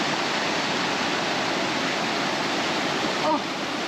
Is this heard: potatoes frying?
no